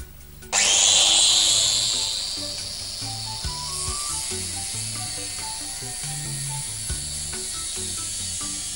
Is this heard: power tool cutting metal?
yes